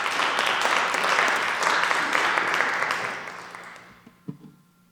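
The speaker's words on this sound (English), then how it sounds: "Look, a round of applause for actual progress when it comes." Sustained audience applause at a human rights lecture, dense and steady, then tapering off into scattered final claps and near silence.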